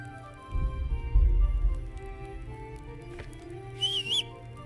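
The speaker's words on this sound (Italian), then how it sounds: "Questo è il fischio." A short warbling whistle from the Kingdom Come Deliverance video game rings out once near the end, preceded by low rumbling game ambience.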